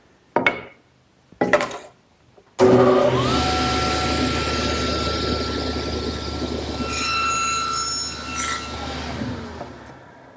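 After a couple of brief knocks, a woodworking table saw starts up and cuts a tenon with the blade set to 3/8 inch depth, a loud steady whine with rising pitch under load, then spinning down.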